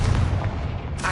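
A Confringo spell blast goes off in Hogwarts Legacy, a loud, boomy low-heavy explosion with a rumbling body that lasts the whole moment, and a sharper crackle flaring near its end.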